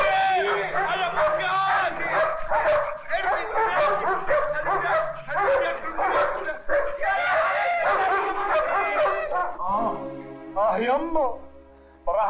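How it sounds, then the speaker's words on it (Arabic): Several dogs bark and yip loudly and continuously, close by, with a crowd and voices mixed in, then whimpers and howl-like cries near the end. "هاتوا الكلاب"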